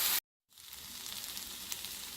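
Short ribs sizzling and crackling in a hot pan for a red wine braise, a steady dense fry hiss that cuts in after a brief silence and runs on with small pops, close and alone.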